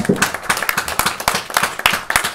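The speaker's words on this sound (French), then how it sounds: "On l'applaudit encore plus fort." Audience applause after a public reading in French, close and energetic, with sharp individual claps standing out in a quick, uneven rhythm across the whole stretch.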